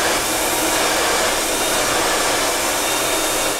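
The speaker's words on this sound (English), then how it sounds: "your blow dryer is on the highest setting possible for heat" A handheld hair blow dryer running on its highest heat setting gives a loud, steady, close-up roar with no variation and no voices.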